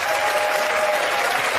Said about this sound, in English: Pass the lie detector, give him a round of applause.